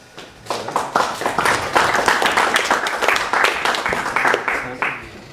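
A lecture audience in a robotics course claps together, dense and loud, rising quickly and holding steady for several seconds before fading.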